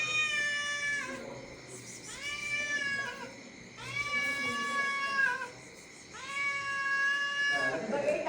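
A cat meows in four long, drawn-out, wavering cries, each lasting about a second or more with short pauses between, fairly close and clear.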